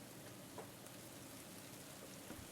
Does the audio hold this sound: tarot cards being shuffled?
no